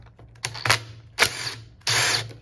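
A hand ratchet turns a 14mm socket in three close bursts of rapid clicking, with short pauses between them. The last burst runs longest, and the ratchet is heard alone.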